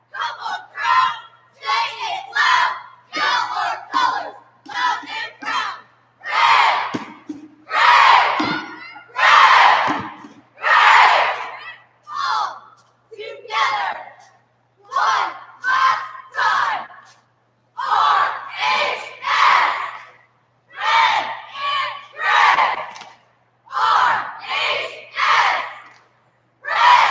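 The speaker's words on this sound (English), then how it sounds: "It's time for their crowd entertainment chants." A high school cheerleading squad at a championship competition yells rhythmic crowd entertainment chants in unison. The loud, punchy group shouts come in repeated bursts with brief pauses between them, and a crowd is audible around the chanting.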